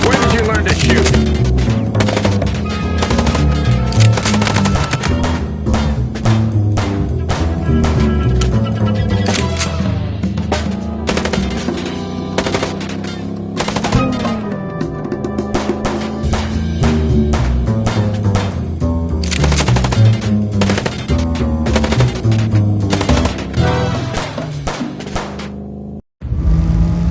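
Gunfire in the video game Chicken Police comes as loud, dense, rapid bursts of shots layered over game music and effects, continuing almost without a break until a brief cut near the end.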